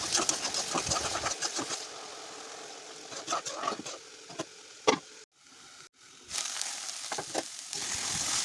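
Fish with potatoes, salt, turmeric and ground cumin fries in a pan, with a close sizzle, scraping stirs and clattering utensil knocks, one short lull near the middle, then the sizzle resumes.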